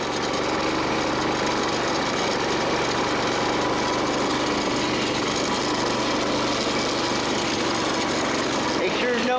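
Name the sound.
engine of 1970s Montgomery Ward three-wheeler running uphill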